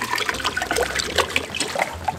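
Water pours and splashes into a large cauldron outdoors in the mountains, a continuous gurgling rush with uneven bubbly surges throughout.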